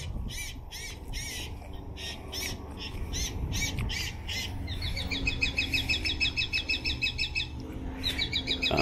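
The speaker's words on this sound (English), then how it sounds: "we're just 25 feet away from my bird scare device" An electronic bird scare device broadcasts loud crow-like caws and squawks near a fig tree, followed by a rapid run of repeated chirping calls, steady and close, with no talking.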